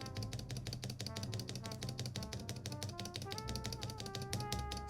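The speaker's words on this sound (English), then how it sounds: "bear witness to a working spacebar" Spacebar on a mechanical keyboard, an E8.5 board, pressed over and over in a fast, steady rhythm of sharp, close clacks that keeps going without a pause.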